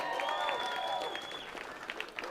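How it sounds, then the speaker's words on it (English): An audience at the Idaho robotics championship gives polite applause, a light scattering of claps under a venue hum and tonal ringing, fading toward the end. "politely clapping is the Red Alliance"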